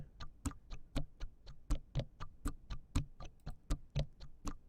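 Crisp, clock-like ticks and clicks tap out a steady, intricate rhythm, close and fairly quiet.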